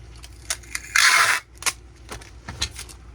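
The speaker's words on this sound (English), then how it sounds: "Every time I pull that tape off that machine" Tape being pulled off a tape dispenser machine while packing shipments, a single loud ripping burst lasting about half a second, standing out between quieter handling clicks and rustles.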